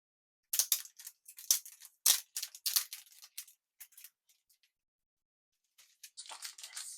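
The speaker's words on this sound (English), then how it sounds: "let's unwrap this baby" Wrapping paper being pulled off a porcelain doll, a close series of crisp crinkles and rustles in quick bursts, then a pause before a final flurry of crackling paper.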